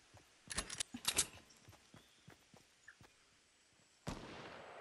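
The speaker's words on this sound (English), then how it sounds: "I hear shots from my right." Gunfire in the Fortnite video game, a quick burst of sharp cracks early on followed by scattered fainter shots at a distance, then a louder noisy blast near the end.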